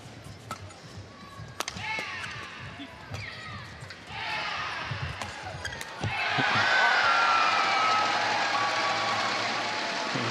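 Loud cheering from an Indonesian supporter in the crowd at a badminton match, rising sharply in two stages to a sustained roar after sparse shuttle hits and murmurs, with a commentator's voice underneath.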